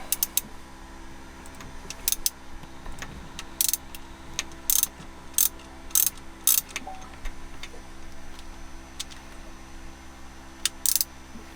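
A wrench works on the cylinder head bolts of a Yanmar 2GM marine diesel engine under rebuild, giving scattered sharp metallic clicks and ratcheting ticks at irregular intervals over a low steady hum, fairly close.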